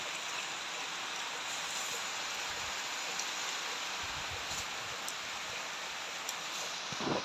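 Steady rain pours down in an outdoor home setting, a dense, even hiss that holds at a constant level for the whole stretch, with a few faint clicks and thuds near the end and no voices.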